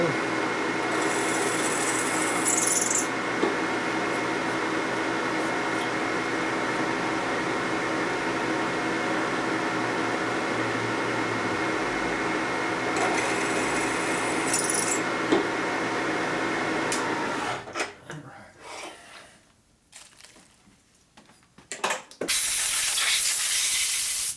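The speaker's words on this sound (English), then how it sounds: "So I get all the holes drilled out" Continuous loud whine of a drill freehand boring holes in a 1958 Harley-Davidson panhead 74ci top-end part, steady for most of the stretch, then dropping into quieter scraping and clatter before the drill starts again near the end.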